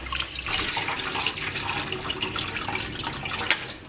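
Rice being washed by hand under a running tap while cooking pilau: a steady close rush of water with scattered splashes and clinks throughout, with no voices.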